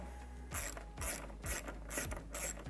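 An 8mm socket on a ratchet snugs up screws on an LED smoked taillight assembly of a 2020-2021 Jeep Gladiator, giving five short, evenly spaced bursts of close ratchet clicking with no talk.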